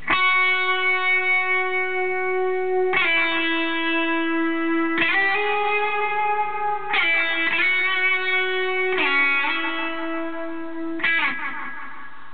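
An electric guitar played through an Ana Echo delay pedal for an ambient sound: chords struck about every two seconds ring out and repeat in echoes that blur into one another, sustained and fairly loud.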